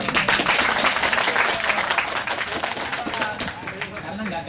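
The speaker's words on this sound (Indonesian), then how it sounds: "Tepuk tangan yang ini." An audience applauds at a Kenduri Cinta gathering, a dense, steady burst of clapping from a crowd that holds for several seconds before thinning slightly.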